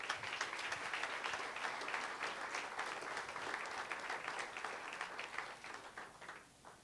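A church congregation claps and cheers in sustained, dense applause that holds steady for several seconds before tapering off at the end.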